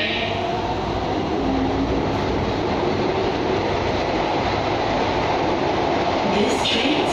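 A Singapore MRT train nearing Marina South Pier rumbles along steadily with a continuous roar and faint rail clatter, loud and close, as if heard from inside a carriage.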